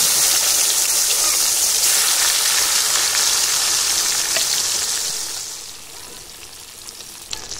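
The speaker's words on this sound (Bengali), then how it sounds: "মাছ ভেজে নিচ্ছি।" Bata fish fry in hot mustard oil in a kadai, a loud, bright, continuous sizzle that hisses steadily and then eases to a quieter crackle, with a few sharp pops near the end.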